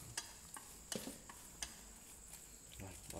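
Garlic frying in a pan, with soft sizzling under a string of sharp clicks and scrapes from stirring or utensils against the pan, fairly faint and close.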